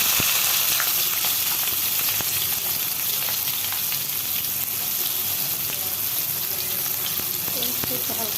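Spice paste fries in hot oil with cumin seeds in a continuous, even sizzle. A few sharp crackles and pops rise above the hiss.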